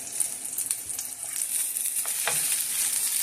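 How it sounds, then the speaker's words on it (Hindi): An omelette sizzles gently in a pan over low heat, giving a steady, soft frying crackle with a few brief stirring or scraping touches throughout. "ऑमलेट को हम पकाएंगे इसमें।"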